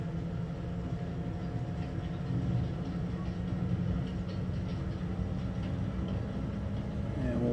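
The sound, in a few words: train speeding up in a tunnel, from the video game Farming Simulator 25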